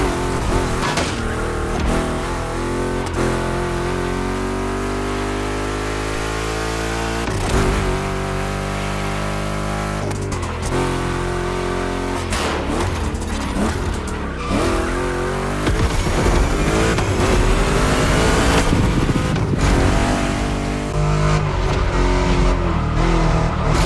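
Two Chevy big-block cars race in The Crew Motorfest during a Hoonigan gymkhana event, with loud engines revving and changing pitch, tires squealing through skids, and no talk over the roar.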